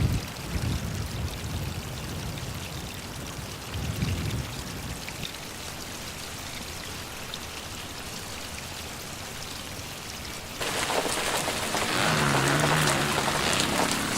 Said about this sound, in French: C'est trop tard, il pleut.